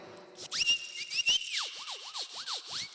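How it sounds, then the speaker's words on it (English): A small whistle played with heavy reverb gives sliding, swooping tones that rise and dip in a series of arcs, each note trailing an echoey tail, clear and fairly quiet with no voices. "We're going to start with this little whistle just here. I'm going to put a little bit of reverb on it, which means it's quite echoey now."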